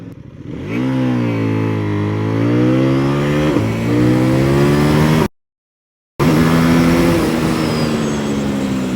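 A CFmoto 800NK motorcycle accelerates hard through the gears, its engine note climbing in rising sweeps and running up against the rev limiter, loud and close, with a brief total dropout midway.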